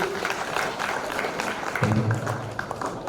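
Audience applause at a Marathi talk by Dr Yash Velankar, a steady dense patter of many hands filling the room, with a low voice or tone briefly rising underneath near the end.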